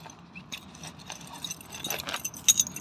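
House keys jangle at the front door of a home, a run of light clinks and scrapes that grows busier and louder toward the end, close by with no talk.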